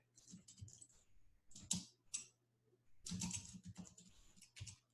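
Typing on a computer keyboard, quick bursts of close light key clicks with short pauses in between, soft and with no voices.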